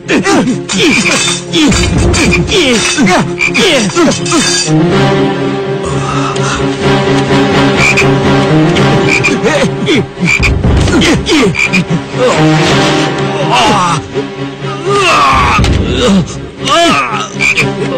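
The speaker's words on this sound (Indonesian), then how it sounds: "Kodok." Frog croaks in an Indonesian TV drama scene, mixed with a continuous dense music or sound-effect bed and speech-like bursts throughout, loud and close across the whole stretch.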